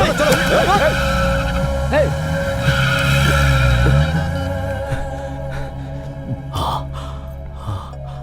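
A car pulls away in a dramatic movie scene, its engine roaring and tires squealing under a swelling music score, with voices and short exclamations mixed in.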